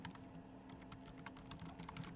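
Steady typing on a computer keyboard, with quick, irregular key clicks at close range over a low background hum, and no voices.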